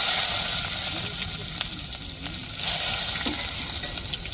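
Dried red chillies, cumin, urad dal and fenugreek crackle while tempering in hot oil for a fish curry, then onion is added and fries with a loud steady sizzle and occasional stirring, with faint speech underneath.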